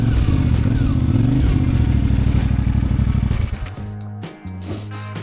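A motorcycle on the road rumbles loudly and steadily up close, its engine note pulsing, then drops away near the end leaving clattering and shifting tones.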